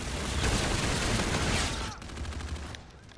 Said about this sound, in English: Yeah, this is a shotgun.